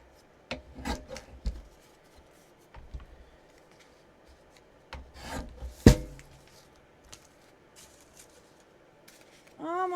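A small miniature tag base is trimmed by hand, giving quiet, intermittent scraping, rubbing and snipping sounds close by. Brief sharp clicks are scattered between softer passes.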